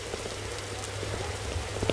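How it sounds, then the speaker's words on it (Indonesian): Acid rain patters softly and continuously in the Roblox survival game, a faint, even hiss of drops on surfaces with no voices. "Hujan asam, gengs."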